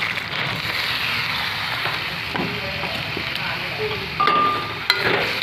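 Washed and dried Gobindobhog rice tipped into hot oil in a pan, giving a steady broadband sizzle with scattered faint clinks and a brief louder scrape near the end.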